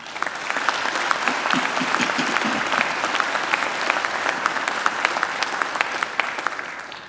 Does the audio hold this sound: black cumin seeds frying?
no